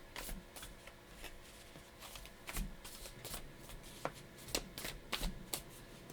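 Tarot cards are shuffled by hand in quiet, soft riffles and flicks, a steady run of papery rustles with sharper snaps now and then, close up and alone with no talking.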